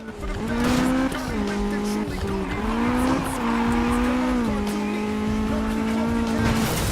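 A car engine in the Need for Speed racing game hammers against its rev limiter, a loud, steady high-pitched drone with small stepped pitch dips, running continuously alongside tire noise and game effects.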